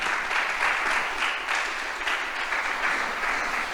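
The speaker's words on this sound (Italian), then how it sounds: "E quindi un applauso." Audience applause at an award ceremony for a prize winner, steady and full, with dense clapping throughout.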